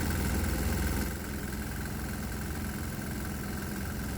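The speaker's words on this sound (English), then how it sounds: "it likes the propane, even though it's causing the engine to knock even louder" Small diesel engine running on an added shot of propane, knocking harder; a steady mid-pitched idle with a louder, rougher first second before settling into a constant knocking hum.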